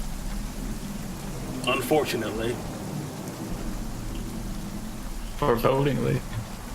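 Heavy rain pours in a steady, dense hiss throughout, while a voice speaks over it in two short bursts.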